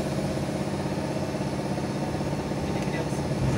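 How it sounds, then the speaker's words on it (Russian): A Bogdan T901.10 trolleybus motor runs steadily after overheating, a continuous mid-pitched electric hum and whine at fairly close range, filling the whole stretch without pause. "Мотор только сейчас заработал, до этого не работал."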